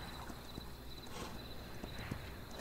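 Horse hooves clip-clop at a walking pace in the Norse-themed video game Kingdom Norse Lands, a faint, steady patter of footfalls set under a constant ambient bed of game sound.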